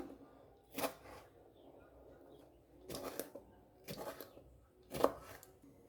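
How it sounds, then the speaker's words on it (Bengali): A knife chopping papaya and tomato on a cutting board in a home kitchen, four separate bursts of cutting strokes spaced a second or two apart, fairly quiet and close. "একইভাবে কেটে নিতে হবে একই সাথে টমাটোটিকেও কেটে নিতে হবে"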